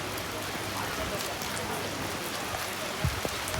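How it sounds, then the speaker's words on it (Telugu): Rain falls steadily at Mawsmai Cave, a limestone cave in Meghalaya, as an even, close hiss of drops with a couple of brief louder splashes near the end. "ఇక్కడ ఇంకా వర్షం పడుతూనే ఉంటుంది ఎప్పుడు."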